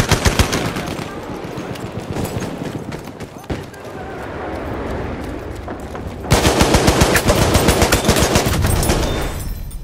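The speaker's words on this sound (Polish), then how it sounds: "Mają tam karabin maszynowy." Sustained automatic machine gun fire in a Battlefield 1 multiplayer battle, rapid bursts throughout that grow louder and denser near the end, with other battle noise mixed in.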